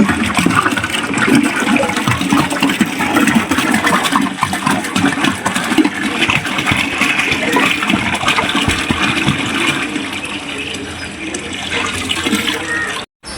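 Water pours steadily into a fish tank, a continuous loud rushing and splashing that stays even throughout before cutting off abruptly at the end.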